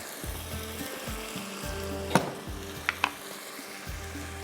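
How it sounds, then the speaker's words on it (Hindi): Ground spices including garam masala and turmeric frying in a pan over high heat, a steady close sizzle with a few sharp pops and spatula scrapes partway through. "ये सारी चीज़ें थोड़ा सा मसाले को भूनना है तेज़ आंच पर।"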